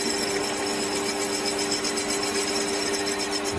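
A machine cutter takes a light cutting pass on a part being refurbished for a Mamod TE1 steam traction engine model, a steady, close, dense grinding whir with a constant tonal hum and no talk.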